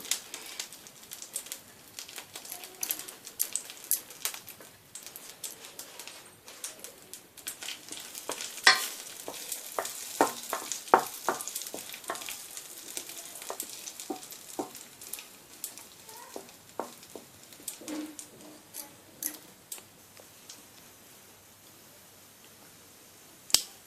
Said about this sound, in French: Nos noix de cajou commencent à dorer